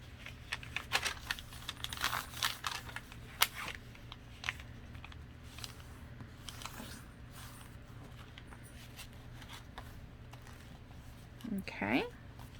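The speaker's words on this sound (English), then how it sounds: "So now I'll go back and fold these in like I did on the first one." Paper signatures for a junk journal are folded and handled at close range, with scattered crisp creases, taps and rustles, a louder crinkling burst near the end.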